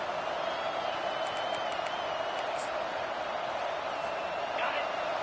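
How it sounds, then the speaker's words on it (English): Football stadium crowd at a Texas vs Nebraska game: a steady, broad roar of many voices with scattered whoops and cheers, heard under a commentator talking throughout. "This crowd bringing the energy and noise early."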